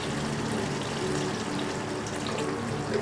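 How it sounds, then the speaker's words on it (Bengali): A small splash of water poured into chicken cooking in a pan for a Peshwari chicken curry, a steady close watery hiss running throughout without a break. "কিন্তু আমি তাও একটু সামান্য একটু জল দিচ্ছি।"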